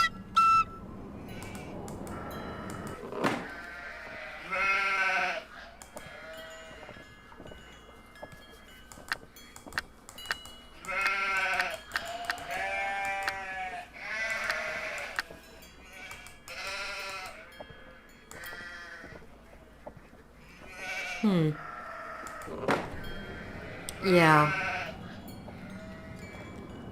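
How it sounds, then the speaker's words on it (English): Sheep in the Nancy Drew game The Haunting of Castle Malloy bleat repeatedly in separate wavering calls spread across the stretch, fairly loud and mostly alone, with one brief spoken word. "I got a feeling that we're gonna have to herd these sheep."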